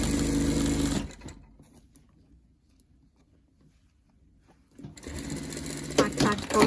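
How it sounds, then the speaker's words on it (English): Sewing machine stitching a seam across the right sides of a scrub cap, a fast, steady close whir for about a second, a quiet pause, then the whirring starts again and runs to the end. "Sew a seam, 2 right sides together, sew right across following the shape."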